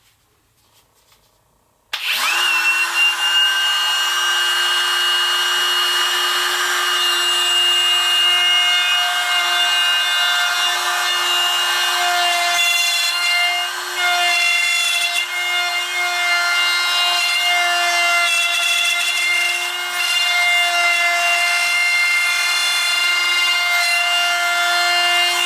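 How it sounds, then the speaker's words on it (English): A router cuts an oblong recess in wood for jig knobs: after two seconds of quiet, a loud, steady high-pitched whine of motor and cutter runs without a break to the end, with slight wavers as the bit moves through the wood. "I'm just going to carefully route it out."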